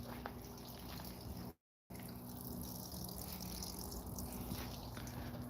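A small koi pond waterfall driven by a solar pump trickles faintly and steadily, a soft continuous dribble over a low hum, with a brief dropout partway through.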